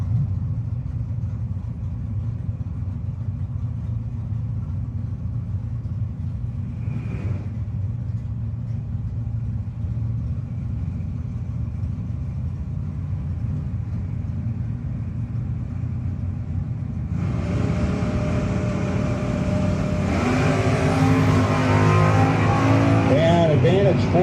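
Drag cars, including a Monza Town Coupe, race at a no-box drag strip shootout. A low idling rumble carries on for a long stretch, then a much louder engine roar bursts in near the end. A voice is heard faintly under the engines.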